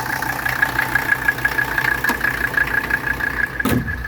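A 1985 wagon's 617 engine idles close by with a smooth, even, steady hum and a faint rhythmic knock, heard alone without talk.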